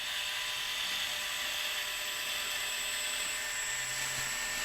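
A battery-powered hands-free can opener cuts around a can lid, giving a steady high-pitched whirring motor drone that holds evenly close by, with no talk.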